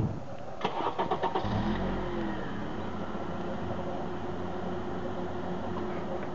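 A car engine cranks with a quick series of starter pulses, catches, revs up and settles into a steady running hum as it pulls away, moderately close with no voices.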